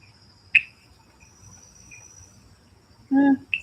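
A short frog croak sound effect from Canva's video editor plays close and loud, with a brief chirp early on, a sustained croak near the end, and faint insect-like ambience in between.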